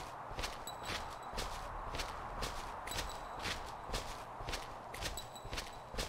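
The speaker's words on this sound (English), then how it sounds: "You play this game, don't follow the footsteps" Footsteps in the Weeping Angels horror game, a steady run of faint, regular treads with short tonal blips over a low constant background hum.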